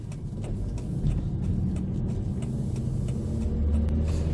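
A car driving through a small city neighbourhood, heard from inside as a steady, fairly quiet low engine and road rumble with a slight rise toward the end.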